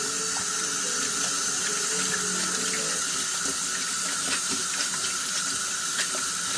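Tap water running steadily to rinse soap off Air Jordan 1 and Lebron Soldier V sneakers in a sink, a continuous loud splashing stream with no voices.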